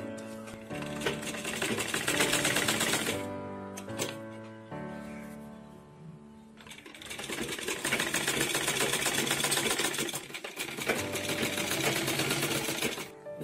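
Close, loud sewing machine running in steady bursts with a brief pause between them, stitching elastic onto a skirt.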